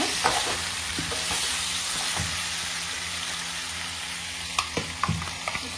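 Chicken with potatoes fries in a pan and is stirred: a constant close sizzle under stirring rustles, with a few sharp utensil knocks against the pan near the end and no talk.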